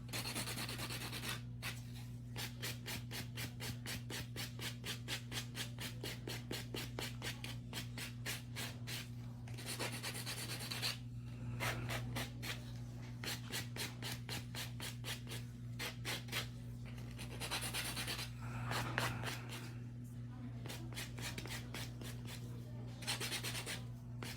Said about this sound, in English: This buff smooths out any surface area.